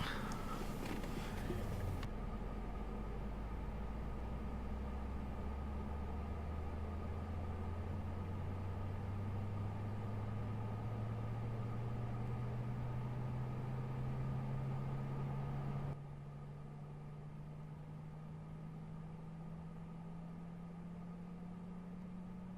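An airliner's number 2 engine spools up in the X-Plane 11 flight simulator, a steady whine slowly climbing in pitch over a constant hum, then the sound drops slightly in level near the end.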